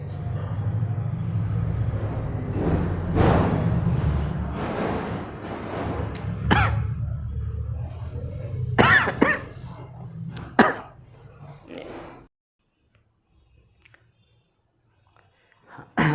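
A person coughs repeatedly in a room, a run of harsh throaty coughs and throat clearing, loud and close, with a few sharp isolated coughs later before the sound drops to near silence.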